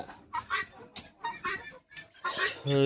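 Guinea fowl call close by in a rhythmic series of about five harsh, rasping cries separated by short pauses, with the final cry trailing into a brief buzzing tone.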